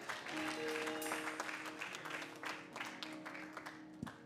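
A church congregation applauding in praise of Jesus Christ, a steady wash of clapping heard faint and distant throughout, with a few sharper claps standing out.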